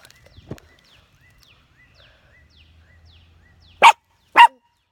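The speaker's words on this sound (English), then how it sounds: "This is my dog." A dog gives two loud, sharp barks close by after a mostly quiet stretch with a few faint earlier sounds.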